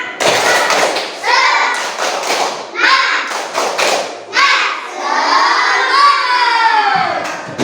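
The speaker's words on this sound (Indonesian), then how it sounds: "kita lakukan tepuk semangat dulu ya" Schoolchildren in a classroom perform a 'tepuk semangat' clapping chant, rhythmic bursts of claps and thumps alternating with loud shouted chanting voices, close and energetic.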